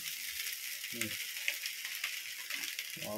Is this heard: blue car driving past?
no